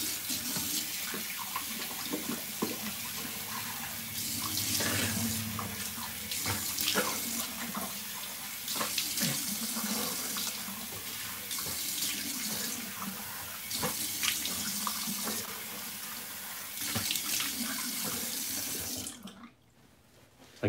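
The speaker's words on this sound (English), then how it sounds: "I'll rinse this off with warm water" A bathroom tap runs steadily with warm water as someone rinses their face at the sink, giving continuous splashing and trickling with irregular sharper splashes, close and fairly loud, ending abruptly.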